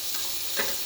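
Vegetables frying in a spoonful of oil in a hot pan over a high flame, a steady soft sizzle with a brief louder burst near the end, no voices.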